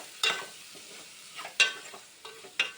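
Prawns sauté in a pan, giving a low sizzle broken by several sharp scraping stirs of a spatula that come at irregular intervals.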